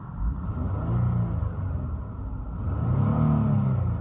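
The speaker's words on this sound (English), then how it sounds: "Let me rev it up for you so you can hear it." A 2013 Ford Explorer XLT engine revs up and eases back, a close, steady low rumble that swells with the throttle, with no talking over it.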